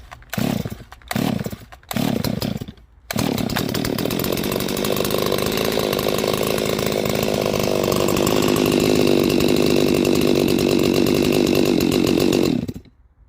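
A Stihl 026 chainsaw is cold-started on half choke: several short pull bursts, then the engine catches and runs loud and steady up close before cutting off at the end.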